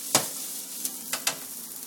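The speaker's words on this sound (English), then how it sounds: "we're going to saute the ginger first in just small quantity of oil," Ginger sautéing in a small amount of oil, a soft, steady sizzle close by, broken by a few sharp clicks and scrapes from stirring in the pan.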